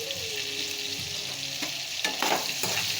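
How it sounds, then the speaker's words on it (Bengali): Potatoes fry with salt in a pan, giving a steady broadband sizzle with a few stirring scrapes and clinks. It stays close and continuous, with no voices. "লবণ দিয়ে আলুটা আমি একটু ভেজে নেব।"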